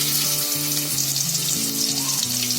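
Onion frying in oil in a pot while a jackfruit dish is prepared, a steady close sizzle with broadband hiss under a line of stepped tonal background music.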